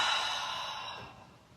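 A single long exhale through the mouth during a yoga practice, close and breathy, fading steadily over a second and a half with no talking.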